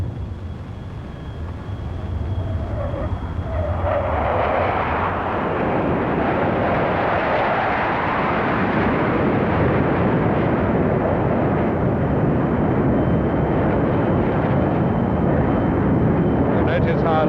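A Sea Vixen jet flies past at the Farnborough 1968 airshow with a broad, loud roar that swells and sweeps through its pitch, then holds a heavy rumble through the rest, with wind buffeting.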